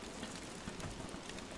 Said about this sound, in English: Alright, the rain is dropping quick.